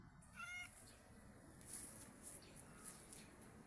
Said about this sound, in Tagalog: Ito yung pusa ko, oh.